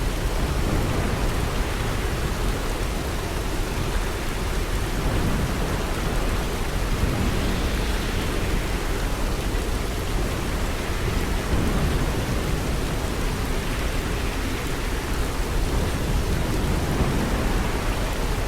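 Heavy typhoon rain from Typhoon Kong-rey pours in a dense, unbroken roar while low thunder rolls beneath it, loud and continuous throughout.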